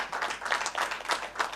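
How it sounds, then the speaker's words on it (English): People at a high-level meeting give a round of applause, with moderate clapping that rises and falls in uneven waves over a second or so. "I would like to invite people to give you a fantastic round of applause"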